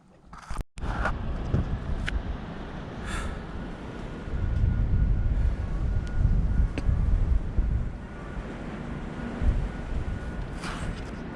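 Strong wind blows across the highest summit of Rab at about 30–40 km/h, a constant gusty rumble buffeting the microphone throughout with a few sharp knocks over it.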